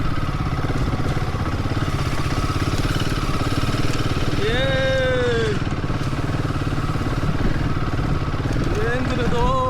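A Hero H450 motorcycle climbs an off-road hill, its engine droning steadily and rising in pitch as it revs, with people talking over it throughout.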